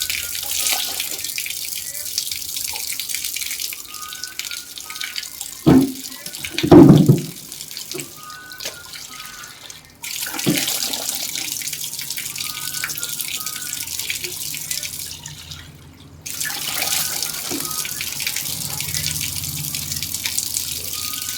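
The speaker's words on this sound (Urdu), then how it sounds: "اس طریقے سے پانی ڈالیں" Tap water running during ablution washing, a steady hiss of flow that stops briefly and resumes, with splashes and hand-washing sounds as someone speaks over it.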